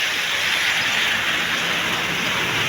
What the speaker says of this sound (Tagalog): Ngayon. Ang lakas na ng ulan.